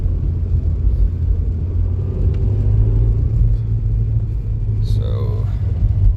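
A car rolls slowly through rain with its engine held under 3,000 RPM, a steady low rumble and road noise close by, with a driver talking over it.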